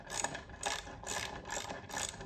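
A hand ratchet clicks in repeated bursts while bolting a steel plate with a riveted or tack-welded nut onto an i-beam for a Vevor 800 lb electric shop hoist, close and steady with short pauses.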